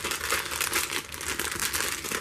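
Plastic packaging from a Bose SoundLink Color speaker unboxing crinkles continuously and loudly up close as it is pulled open, with no speech.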